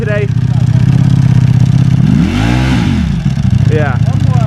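A custom Ducati Monster 1200 motorcycle engine runs steadily and loudly up close, its deep throbbing idle rising into a brief rev midway before settling back, with people talking over it.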